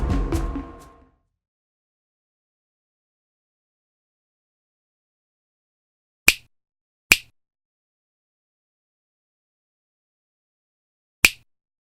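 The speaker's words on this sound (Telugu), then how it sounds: "ఇల్లంతా చిటికలేస్తూ తిరిగాను" Three sharp, isolated finger snaps ring out one at a time in a quiet house, spaced seconds apart after a brief burst of sound at the start; each snap is crisp and clear against near silence.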